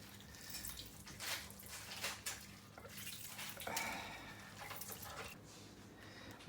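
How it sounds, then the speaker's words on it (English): Water pours and splashes as chopped tomatoes are drained in a kitchen, with irregular bursts of running water and a few clinks against a container, fairly close and steady over several seconds. "Now need to drain all the water out"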